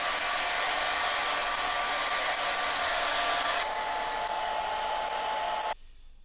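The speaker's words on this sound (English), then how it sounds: "Let's get a hairdryer." A hair dryer blows with a steady whooshing roar, shifts to a slightly different setting midway, then switches off just before the end.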